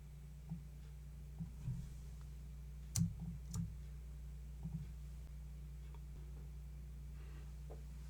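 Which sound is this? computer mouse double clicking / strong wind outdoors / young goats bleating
computer mouse double clicking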